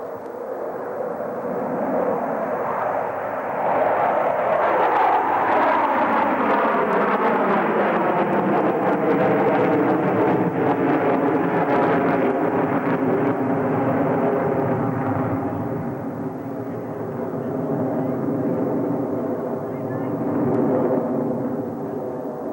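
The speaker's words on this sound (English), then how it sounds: "they perform a maneuver attempted by no other jet flight demonstration team in the world today" Blue Angels jet formation flying the Diamond Dirty Loop at under 200 mph, a sustained loud roar of several jet engines that swells and shifts in pitch as the aircraft pass, with no talking.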